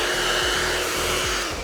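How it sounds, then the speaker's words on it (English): A blow dryer runs continuously at close range, a steady loud whooshing roar of heated air from the nozzle with a low motor hum, no talking over it. "When the blow dryer is turned on, it heats up that air and it shoots out the opposite side."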